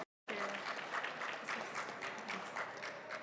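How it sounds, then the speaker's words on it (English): After a moment of silence, an audience breaks into a sudden, steady round of applause for a competing team named Cure AI at a judged pitch event, with faint voices mixed into the dense clapping. "let's say a big round of applause for Cure AI."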